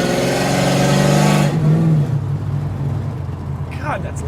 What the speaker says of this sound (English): I don't recommend hitting the gas when you're next to another car.